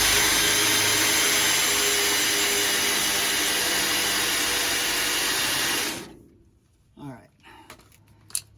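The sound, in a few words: drilling metal with a drill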